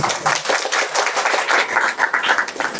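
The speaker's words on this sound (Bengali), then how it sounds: "এটা এর জন্যই জোরে একটা হাততালি দিতে।" A crowd at a film event for the Bengali movie Haimantir Itikotha bursts into loud, sustained clapping, a dense rapid patter of many hands close by with no voices over it.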